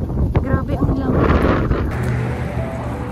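Strong, cold wind in Canada buffets the microphone with loud, gusty rumbling throughout, briefly mixed with faint voices.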